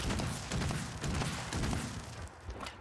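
Rapid gunfire from a weapon in the video game Fallout 76, loud and continuous with bursts of shots repeating throughout.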